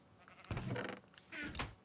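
Two short bleats from a sheep in the video game Minecraft, moderately near and fairly faint, with a brief pause between them and no talk.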